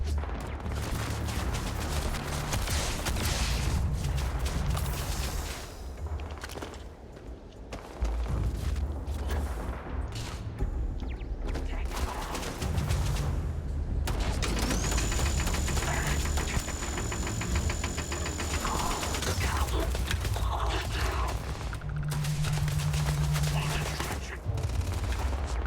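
Turret gunfire in the Starfield video game, dense bursts of rapid shots over a steady engine-like drone, loud and continuous for most of the stretch with brief lulls.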